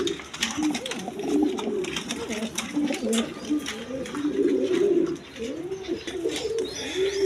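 A pair of racing pigeons cooing close by, repeated soft throaty coos overlapping in a continuous murmur, with occasional clicks and rustles in the background.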